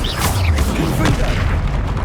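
A Confringo fire-blast spell exploding in the Hogwarts Legacy video game, heard as a couple of heavy booming blasts set against a dense, loud rumble of game sound, with a voice-like tone mixed in.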